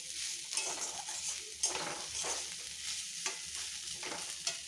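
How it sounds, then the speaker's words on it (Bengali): Potato and bottle gourd peel frying in a pan, a quiet continuous sizzle broken by light scraping and clinks of a utensil stirring against the metal. "আর এখানে হচ্ছে তোমার বটবটি আলু লাউ চোচা দিয়ে ভাজা হয়ে যাচ্ছে"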